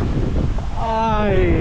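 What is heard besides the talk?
wind blowing while cycling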